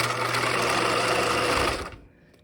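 A sewing machine back stitches a backpack lining at a regular 2.5 to 3 stitch length, running as a steady, close, loud whir for under two seconds before stopping abruptly.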